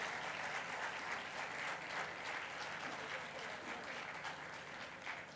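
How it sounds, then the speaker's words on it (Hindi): An audience at a devotional music festival claps loudly for a visiting singer, a continuous dense patter of many hands that stays even and fades only slightly at the end. "इसके लिए भी ज़ोरदार तालियां हो जाएं।"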